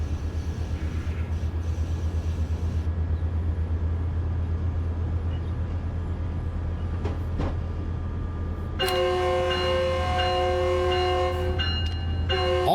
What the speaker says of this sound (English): I think the horn sequencer just decided that we were going fast enough and it would go off.